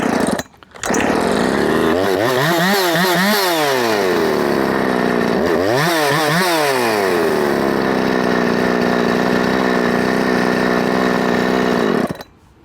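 Husqvarna 357xp chainsaw running loud and close at high idle, a sustained buzzing whine with two rises and falls in pitch as the throttle is blipped, then cut off at the end.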